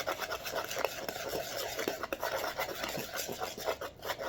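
A utensil stirs plant-based pancake batter in a bowl with a steady scraping, rasping rhythm, close and fairly quiet, with no voices.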